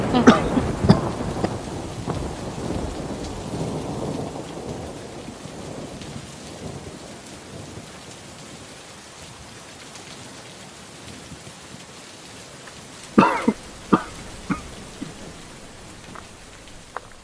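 Steady rain patters loudly at first, then eases to a softer wash, with a few sharp knocks and taps near the end.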